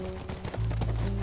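Horse hooves clip-clopping in The Last of Us: a short run of soft hoofbeats over a background of steady game tones, moderately quiet and with no talk.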